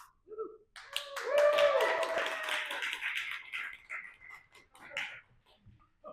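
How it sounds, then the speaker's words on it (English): Applause from an audience at a Relay for Life kickoff meeting, a burst of clapping that swells, then thins out into scattered claps, with voices mixed in. "If the applause isn't big enough, if there's not enough participation, I will make you continue."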